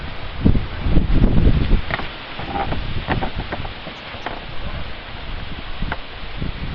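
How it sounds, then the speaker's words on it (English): Wind on a July day in a vegetable garden gusts across the microphone in uneven rumbling bursts, with a soft rustling hiss between the stronger gusts. "It's windy today"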